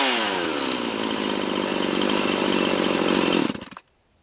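A Husqvarna chainsaw with a freshly repaired ignition wire roars at a steady, loud high idle up close, then is switched off and cuts out abruptly, leaving near silence.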